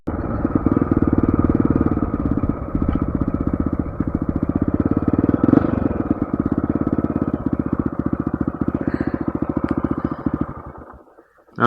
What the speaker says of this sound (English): getting ready for another motorcycle adventure